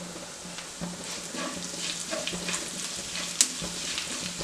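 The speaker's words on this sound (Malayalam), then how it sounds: "അതിലേക്ക് ആ വെളിച്ചെണ്ണ ചൂടായി കഴിയുമ്പോൾ നമുക്ക് 1 ടേബിൾ സ്പൂൺ പെരുംജീരകം ഇട്ട് കൊടുക്കാം" Fennel seeds sizzling in hot coconut oil in a pan for a Kerala-style prawn roast, a steady close crackle and hiss with occasional stirring scrapes and a sharp clink.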